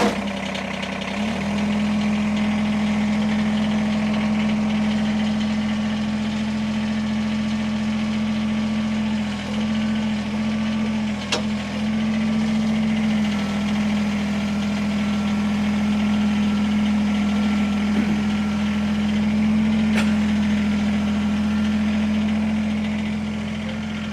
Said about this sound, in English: Love the sound of diesel in the morning.